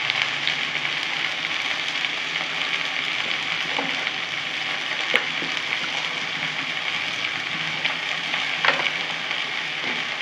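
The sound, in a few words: jute leaves frying in a pan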